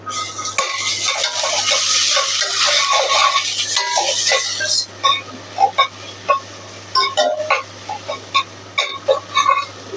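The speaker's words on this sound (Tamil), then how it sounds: "இஞ்சி பூண்டு பேஸ்ட் போட்டு நல்லா வதக்கிக்கலாங்க" Ginger garlic paste sautéing in a pan for prawn biryani, a steady loud sizzle with stirring scrapes for about five seconds. Then it breaks into short separate scrapes and spatters.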